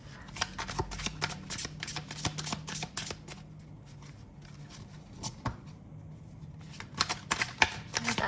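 Tarot cards being shuffled by hand at close range, a long crisp flurry of card riffles and taps that pauses briefly midway before resuming.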